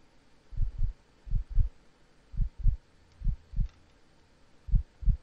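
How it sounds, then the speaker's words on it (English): In the video game Lapso, a heartbeat comes from a shaken box: low, muffled double thumps repeating in a steady lub-dub rhythm, loud and alone. "It's a heart, but the heartbeat increased if I shake it."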